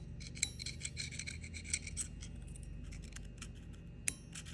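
A metal pick scrapes along a ridge on an oil-caked engine crankshaft, giving a close, raspy scratching in repeated short strokes with a sharp click near the end, no voices.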